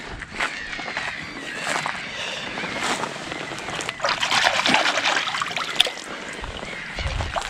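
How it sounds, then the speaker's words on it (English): Water trickling and splashing as hikers touch the water at the start of the Skåneleden SL1 trail near Sölvesborg in southern Sweden, with small uneven splashes rising in the middle and a louder bump near the end. "We're just touching the water."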